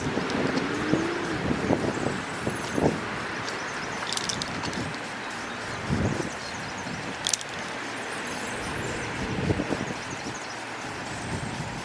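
Wind gusts outdoors, a steady broad rush with buffeting across the microphone, occasional clicks and knocks standing out above the continuous blowing.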